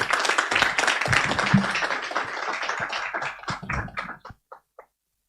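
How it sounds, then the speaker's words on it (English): A conference audience at a Kenyan business sustainability panel claps for the panelists, a dense round of applause that thins out into a few scattered, isolated claps before stopping. "Please let us have a round of applause for the panelists."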